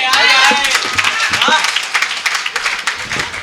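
Audience applause at a Hindi kavi sammelan poetry recital, a brief thin patter of clapping under a voice talking loudly over it.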